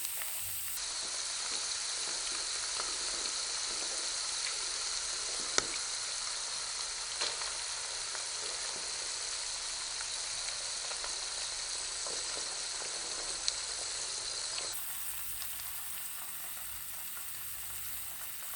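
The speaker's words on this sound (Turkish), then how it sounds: "Şimdi üzerine kaseye kırarak hazırladığım yumurtaları tavama ekliyorum." Eggs sizzle steadily in a frying pan over peppers and çökelek cheese, a continuous loud hiss that holds evenly throughout with a few small pops, no voices.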